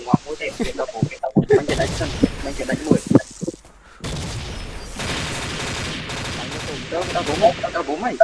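Rapid gunfire in a shooting video game, with bursts of shots and booms running under excited talking from players, loud and close.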